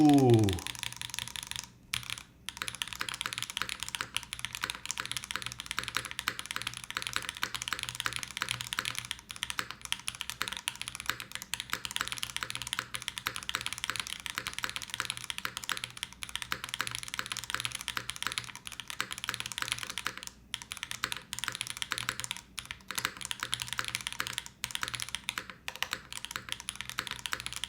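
Continuous typing on a custom mechanical keyboard with aluminum-mounted switches, a dense, steady patter of clacky keystrokes, fairly quiet and close, running alone for nearly half a minute.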